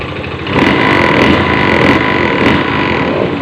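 A Honda fuel-injected motorcycle showing a blinking MIL code 8 TPS sensor error and rough idle is started, its engine catching after half a second and running on as a steady, loud, close drone.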